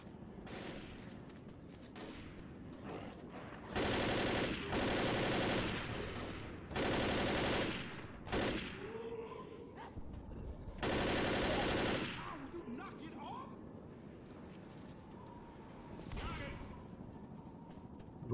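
Gunfire in the zombie game Left 4 Dead comes in repeated long automatic bursts. It is loud and rapid, with short pauses between volleys and quieter stretches of game noise.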